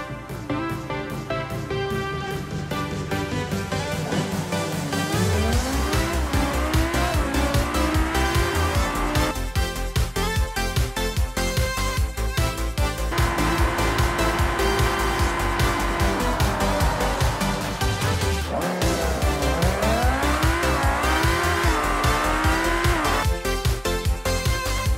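A racing car fitted with a muffler accelerates hard through repeated gear shifts, its engine note climbing and dropping loudly and continuously, with tire squeal mixed in.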